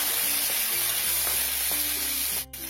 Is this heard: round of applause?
no